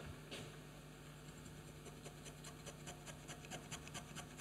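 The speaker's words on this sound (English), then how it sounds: "You can take your spoke shave and shape the top." A spokeshave shaping the top of a wooden piece for a woodworking Christmas project, quiet rhythmic rasping strokes repeating steadily and close by, with no talking.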